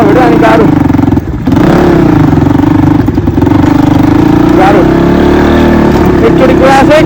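A motorcycle engine roars close by on an off-road ride, revving hard and steadily throughout, with a brief drop in throttle near the start before it climbs again.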